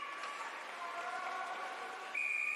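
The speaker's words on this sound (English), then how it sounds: "There goes the second whistle." At a U Sports swimming championship final, a bright tonal starting whistle rises over a faint crowd murmur in an indoor pool and then sounds a sharp, sustained higher note near the end.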